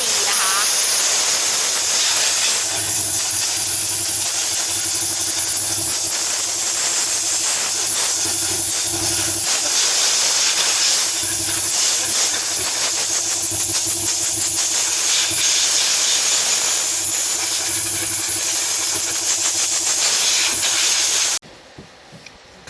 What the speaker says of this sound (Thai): เป่าฝุ่นทำความสะอาดของหม้อน้ำนะคะ ของรถซูซูกิเออร์ติก้า